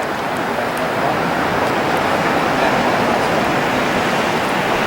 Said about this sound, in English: That's calving waves.